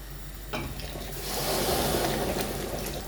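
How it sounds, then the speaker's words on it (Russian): Water drained from jars of cherry compote through a special draining lid, a continuous rushing pour that grows louder after the first second, close and alone, with no talk. "У меня для слива специальная крышечка, буду сливать."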